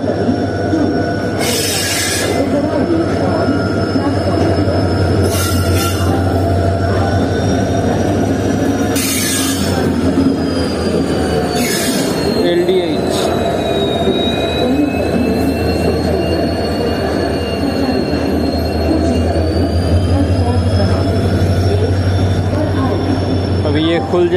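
The Jammu Tawi–Kolkata Express rolls into a station platform with loud steady rumble, high metallic wheel squeals rising and falling, and several sharp bursts of noise along the way.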